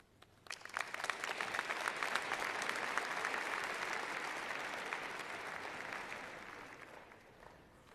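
An audience at the CHS high school graduation ceremony bursts into applause that swells quickly, holds as a thick wash of many hands, then gradually thins and fades away.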